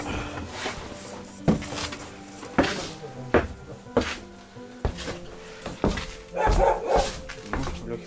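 A dog in a Russian village barking in short sharp bursts, several yips and woofs spaced irregularly, fairly close, with people talking and some knocking in the background.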